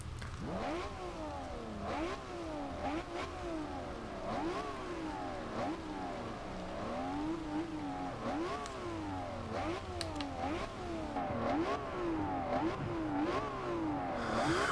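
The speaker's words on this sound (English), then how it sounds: "I love the sound of a V12." A 2010 Lamborghini Murcielago LP 670-4 SV V12 engine in the video game Forza Horizon 2 revs repeatedly, rising and falling in rapid whining sweeps through gear changes, steady and moderately loud, with no talk.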